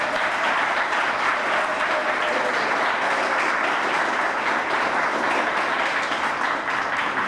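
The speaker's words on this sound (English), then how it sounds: "Can we give them a round of applause again?" Sustained, even applause fills the hall for nominees at the 2023 Greater Pittsburgh Community Media Awards, a thick continuous wash of many hands clapping at a steady level throughout.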